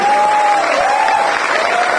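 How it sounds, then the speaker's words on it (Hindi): A crowd at an event applauds the organisers' team, with dense, steady clapping and a faint voice tone running through it. "मैं चाहूंगा कि रॉयल वेकेशन के लिए उनकी टीम के लिए शानदार तालियां होनी चाहिए"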